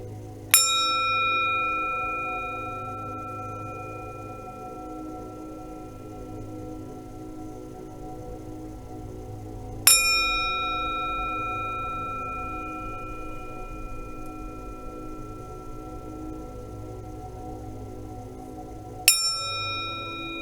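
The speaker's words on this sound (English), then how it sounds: "if you guys are not used to the pitchiness of a chakra bell" A chakra bell is struck three times, roughly ten seconds apart, each strike a bright, piercing ring that decays slowly into a long sustained tone, heard alone without any talking.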